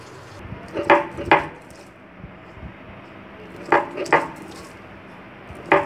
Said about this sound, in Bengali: এবার আমরা পাটায় বেটে নিব